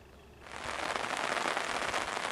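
Light summer rain begins to patter at a lakeside carp-fishing camp at Lake Gubel near Niedamowo. A soft, dense hiss swells in after a quiet moment and holds steady, close by and without talking.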